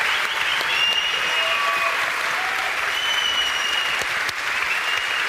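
Sustained applause from a large audience at a tech company's keynote summit, a steady, dense wash of clapping that holds evenly throughout, with faint whistles or voices rising above it.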